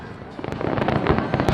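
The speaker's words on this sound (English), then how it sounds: "It's about 5 minutes of fireworks, so we've got about another 5 minutes left." Fireworks burst over Carowinds amusement park in Charlotte, North Carolina, during its 50th anniversary celebration, a loud, dense run of crackling pops and booms that builds and keeps going, with faint crowd voices underneath.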